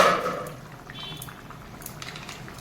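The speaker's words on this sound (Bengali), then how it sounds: "এবারে আমি মাছ দিয়ে মাছ দিয়ে দেবো" Singi fish slides into a bubbling fig and potato curry, starting with a loud splash-like pour that fades into soft steady boiling and gentle bubbling.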